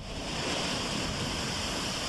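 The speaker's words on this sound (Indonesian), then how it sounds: "Terjangan ombak setinggi 2 meter lebih menghantam tembok pembatas gelombang air laut di pelabuhan" Storm waves over two meters high pounding a harbor sea wall at a port and fish auction site, a dense, continuous roar of surf and wind with no voices.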